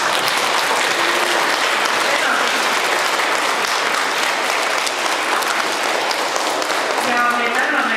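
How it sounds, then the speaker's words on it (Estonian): An audience inside a church applauds after a primary school Christmas concert, dense steady clapping filling the space at full volume throughout. "Teeme aplausid jälle ka ja tänuks."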